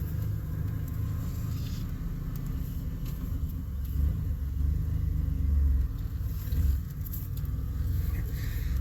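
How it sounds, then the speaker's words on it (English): A 1988 Chevy truck creeping along slowly in first gear, giving a steady low engine rumble with a faint rise and fall in pitch, heard from inside the cab with no talking. "You could basically get out and walk beside this thing in first gear."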